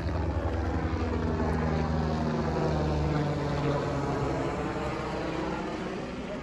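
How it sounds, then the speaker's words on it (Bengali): Helicopter flying over the mountains on the Kedarnath route, a loud steady engine and rotor drone holding close and constant, easing slightly toward the end. "কাল থেকে আজকের মধ্যে প্রথম হেলিকপ্টার এটা।"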